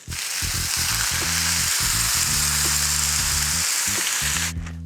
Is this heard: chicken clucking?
no